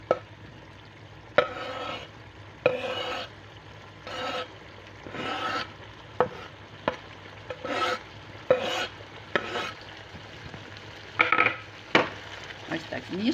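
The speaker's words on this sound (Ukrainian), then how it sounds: "І знову додаю їх у сковорідку." Veal kidneys sizzle in a frying pan while a utensil scrapes through them in repeated, uneven stirring strokes, close and fairly loud.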